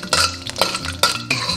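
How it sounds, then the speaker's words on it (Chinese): Rock sugar is stirred in a pan to caramelize, with a spatula scraping and clinking against the metal in a few irregular close strokes over soft background hiss. "直接下入冰糖炒出糖色"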